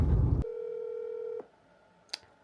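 A telephone dialing out to call a mother: a rush of loud noise cuts off into a steady, sustained electronic tone lasting about a second, followed by quiet and a single short click.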